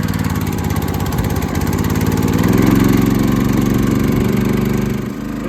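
A ported Husqvarna 61 chainsaw runs on choke with its choke cap on, a steady loud two-stroke drone that swells slightly midway and dips near the end, with no talking.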